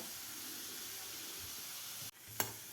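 Roasted chana dal fries in hot oil with a steady soft sizzle, punctuated near the end by a brief clatter and a sharp stir or splash.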